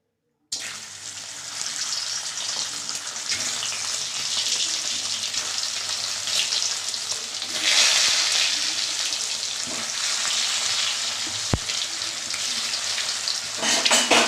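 Mustard oil sizzles continuously in a kadai, close and steady, swelling louder for a stretch midway, with a brief sharp clink of metal near the end and no talking.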